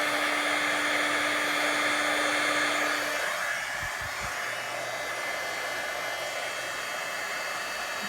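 A heat tool blows a steady, loud, hissing rush of air over embossing powder on a handmade card, then drops to a softer, lower whoosh partway through, with a few faint taps underneath.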